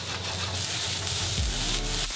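Mushrooms and broccoli frying in a very hot non-stick pan, a broad steady sizzle with crackling, joined midway by a low rumbling hum and scraping stirring sounds, close and alone without talk.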